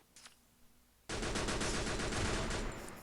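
Automatic gunfire in the mobile battle royale game Free Fire bursts in suddenly after a quiet moment, a loud, rapid, evenly spaced string of shots lasting about a second and a half before easing off.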